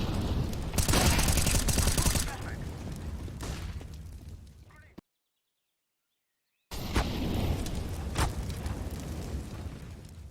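Grenade and flashbang explosions in a video game: loud rumbling blasts and crackling bursts, then a sudden stretch of total silence before another heavy round of booms.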